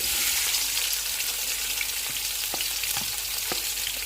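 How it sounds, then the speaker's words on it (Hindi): Sliced onions sizzle and fry in hot oil for a beef karahi, giving a steady, loud hiss throughout with a few faint clinks of stirring. "ऑयल गर्म हो गया है, अब इसमें प्याज डाल देंगे।"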